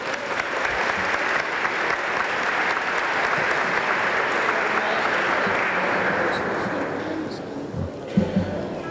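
Sustained applause from an audience at a company award ceremony, a dense, even roar of many hands clapping that continues for several seconds before thinning, with a few thumps near the end.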